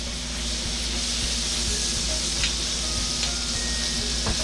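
Butter and olive oil sizzle in a very hot pan, a steady close hiss of frying that carries on without a break throughout, with no voices over it.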